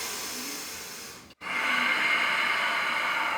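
A long, steady breath during a yoga class, heard as a close, airy hiss that breaks off briefly and then resumes a little louder and continues evenly, with no talking.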